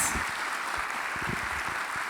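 Audience applause for a speaker at a business forum in Brazil, a steady wash of many hands clapping at moderate level for about two seconds, with no voices over it.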